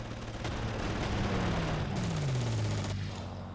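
Gunfire from the Panzer Corps video game, aimed at a fighter plane, comes as a dense, continuous rattling barrage with a descending engine-like whine sweeping underneath, loud and sustained.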